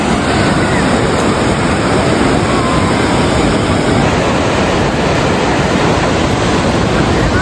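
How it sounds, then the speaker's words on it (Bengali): Big sea waves breaking on a beach, a loud, dense roar of surf that fills the whole stretch with wind buffeting the microphone, close and continuous, no voices. "দাঁড়িয়ে আছি তাও ঢেউ চলে আসছে"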